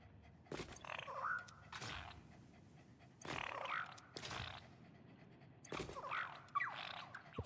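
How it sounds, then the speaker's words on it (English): Creatures called doggos in the video game Satisfactory pant and whimper in several short breathy bursts, each carrying a thin high whine, moderately close with quiet gaps between them. "Doggos."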